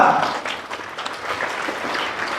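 An audience at a devotional Sai Baba gathering breaks into brisk, dense applause that starts loud and keeps going steadily throughout, with a faint voice underneath.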